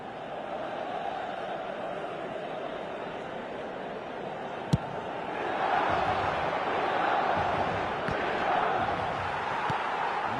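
In eFootball 26, a stadium crowd roars with sustained, fairly loud cheering that swells midway, alongside a sharp thump and scattered match noises in the background.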